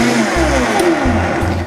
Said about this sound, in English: now we're ready to blend this up. Shouldn't take too long with the Vitamix.